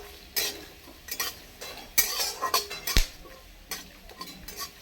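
Black cumin seeds are dry-roasted in a dry wok, with a spatula scraping and clinking against the metal in irregular bursts over a faint crackle and no talk.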